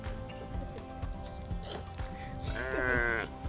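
A freshly shorn sheep bleats repeatedly at close range, with a long wavering cry rising near the end over a steady background.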